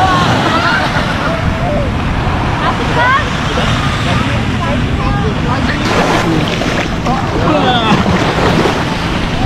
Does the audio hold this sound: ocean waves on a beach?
yes